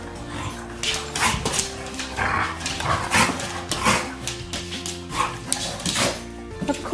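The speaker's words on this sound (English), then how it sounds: "The dogs are going mental." Two dogs bark excitedly indoors, a rapid, close, loud run of overlapping barks and yips that continues without a break.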